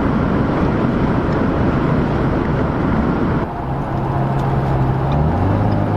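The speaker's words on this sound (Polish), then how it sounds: "Wyciszenie kabiny też jest całkiem spoko, motor słychać, ale nie jest przesadnie głośno." Inside the cabin of a Ford Mustang with a 2.3 EcoBoost turbo four-cylinder while driving, a steady engine drone mixes with road and wind roar, and the engine note rises audibly near the end.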